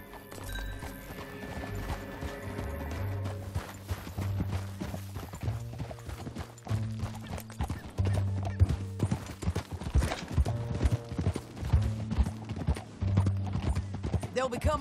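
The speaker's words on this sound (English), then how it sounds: "Get on your horse. Let's get after them." Horse hooves clatter in a rhythmic gallop in Red Dead Redemption 2, with a neigh, game music and a character's speech over the steady beat.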